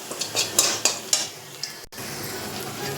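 A spoon scrapes and clinks around a pan as onion, garlic, cumin and dried chili temper in hot oil, a string of sharp metallic taps over a soft steady sizzle, with no one talking.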